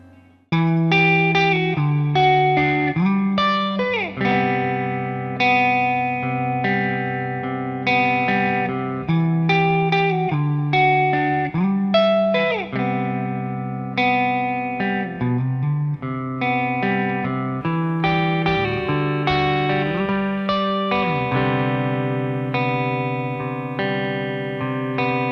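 A distorted electric guitar plays loud chords and twinkly lines, with subtle background reverb from a Mua R7 pedal run through the effects loop of a Rev D20, continuously and without voices.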